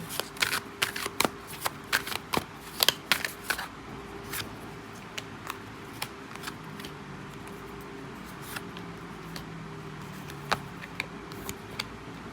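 Oracle cards shuffled for a tarot-style reading: a run of crisp, close card snaps and riffles, busiest early and then thinning to sparse flicks, with no voice over them.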